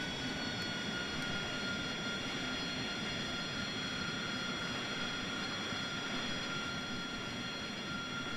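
An AV-8B Harrier jet engine in X-Plane 11 idles at low thrust, a steady whine over a broad roar, holding constant and even throughout.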